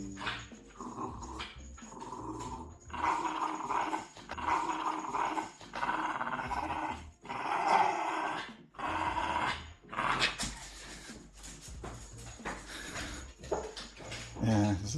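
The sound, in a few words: terrier dog growling while playing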